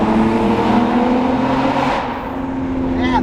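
Nissan Skyline R34 GT-R with its RB26 engine pulling hard on pump gas at 15 pounds of boost, a loud sustained engine drone heard from inside the car, easing off near the end while a voice speaks over it.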